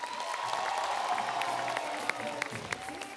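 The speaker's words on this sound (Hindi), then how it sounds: "जोरदार तालियां।" Studio audience applause greeting a film director arriving on a Hindi comedy talk show, a steady wash of clapping and crowd noise with a few sharper claps toward the end.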